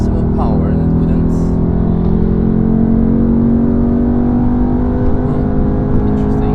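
A Mercedes C63 AMG at full throttle on the Nürburgring, heard from inside the car as a loud, steady engine drone that holds pitch without shifting, with someone talking over it.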